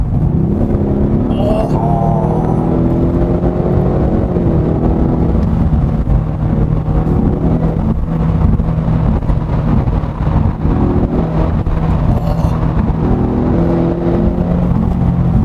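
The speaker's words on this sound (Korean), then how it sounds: "이제 스포츠 배기를 켰어요." Ford Mustang engine in sport exhaust mode, a deep steady rumble with a rising and falling rev tone throughout, loud and close with wind noise and no speech.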